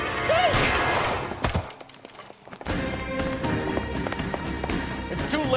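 Gunfire in the video game L.A. Noire, a few sharp shots mixed with frantic voices, tense music and heavy game noise.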